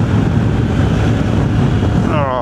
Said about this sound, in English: too much wind going up my sleeves